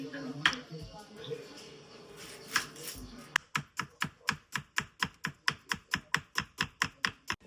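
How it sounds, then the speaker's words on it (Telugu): A kitchen knife chops onions on a board at a rapid, even rhythm, a row of about fifteen crisp close taps after a few scattered cuts, with talk going on in the background early on. "ఇప్పుడు కిలో ఉల్లిగడ్డ ఫస్ట్ కట్ చేసుకొని పక్కన పడేసుకుంటే అన్నిటికీ పనికొస్తాయి"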